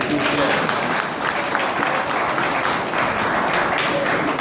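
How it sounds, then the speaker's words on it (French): A congregation at a thanksgiving memorial service for Etienne Tshisekedi applauds in a continuous, even wash of many hands for several seconds, with voices murmuring underneath. "Acclamez pour vous-même."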